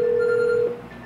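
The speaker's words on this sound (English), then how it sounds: "you can call people's telephones now, which is awesome" A phone call placed through an Amazon Echo, giving one steady electronic ringback tone that holds for about two thirds of a second and then cuts off, clear and alone with no talking.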